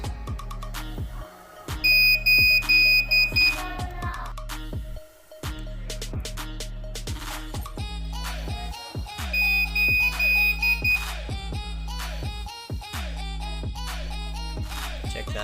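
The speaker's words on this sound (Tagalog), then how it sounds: "So, dyan po nang gagaling yung beep sound na masakit sa tenga." A CCTV recorder with a failing hard disk (HDD error) sounds a loud, continuous electronic alarm, a steady piercing tone with repeated beep bursts layered over it, sustained throughout with no talking.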